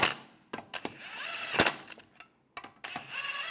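Power tool snugging down lug bolts on a 1998–2010 Volkswagen Beetle wheel, several short close whirring bursts separated by brief gaps.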